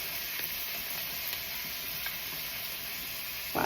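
A seasoned pork chop sizzles in a pan over medium-high heat, a loud steady crackling hiss that stays close and constant throughout, with no voices.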